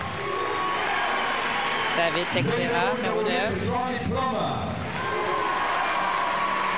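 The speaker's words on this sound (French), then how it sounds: "Un mélange d'applaudissements et de huées" Crowd at a 2001 Canadian university men's volleyball final applauding and booing the Manitoba Bisons lineup, a steady mixed roar of clapping and jeers throughout, with an announcer talking over it.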